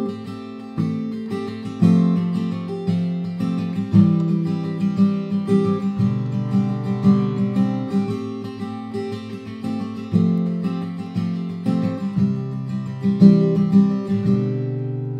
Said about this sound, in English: We strum the strings, it's a rhythmic approach